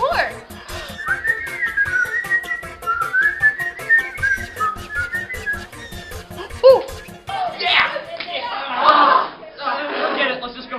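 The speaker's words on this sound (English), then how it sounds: "Of course, whistling. Well then, whistle some more." A person whistles a wavering, sliding melody at close range, then talking and chuckling take over while the whistling carries on faintly beneath.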